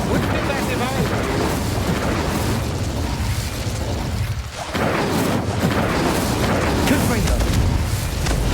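Confringo, an explosive spell in the video game Hogwarts Legacy, bursts with loud, dense booming and crackling that runs almost continuously, dipping briefly once midway before surging again.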